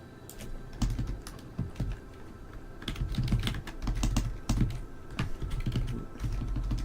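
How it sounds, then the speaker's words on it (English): Typing on a computer keyboard during a PC game session, rapid irregular clicks and clacks close to the microphone, continuous for several seconds with no talking. "Why is typing so hard?"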